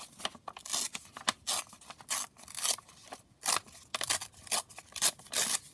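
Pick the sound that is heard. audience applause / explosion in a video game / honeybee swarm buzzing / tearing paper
tearing paper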